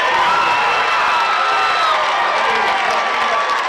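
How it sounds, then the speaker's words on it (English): A high school football crowd in the stands roars and cheers after a long touchdown run, a steady loud wash of shouting voices and whoops that carries on throughout. "Oh, you can hear the crowd over to our right,"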